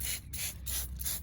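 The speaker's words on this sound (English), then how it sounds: "So I'll go ahead and spray this." A spray bottle of dish soap and filtered water mists weeds in four quick, close hissing bursts at an even rhythm, with short pauses between them.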